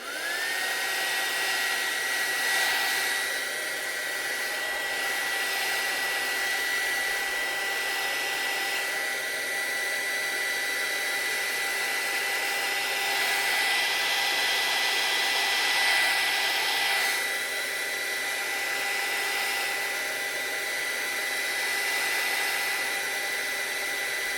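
A hair dryer drying paint blows steadily with a constant high whine, loud and close, running without pause for the whole stretch.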